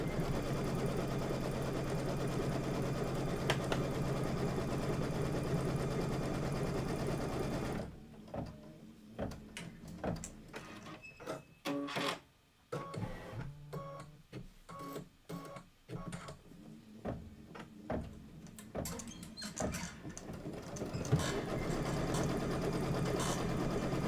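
An embroidery machine stitches a trim tack-down line on fabric, first a steady whirring hum, then rapid clattering needle strokes in bursts with brief pauses, close and fairly quiet, no speech.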